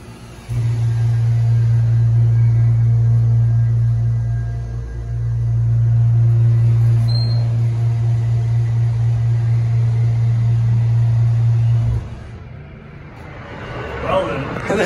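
A 2016 Otis Hydrofit hydraulic elevator runs with a loud, steady low pump hum that dips briefly mid-run and cuts off near the end, followed by faint rustling.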